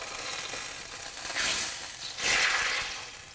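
Beef broth hits a hot pan for au jus gravy and sizzles loudly, with two strong hissing surges over a continuous bubbling frying noise close up and no talking.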